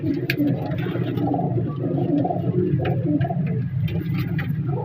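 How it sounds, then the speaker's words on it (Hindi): Migratory pigeons at the Shahdara pigeon market coo in a dense, continuous low murmur, many birds overlapping nearby, with faint ticks and clicks scattered through. "ये प्रवासी कबूतर है।"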